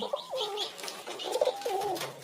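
A pet pigeon gives several throaty, rolling coos at close range, with short pauses between the bursts and no voices.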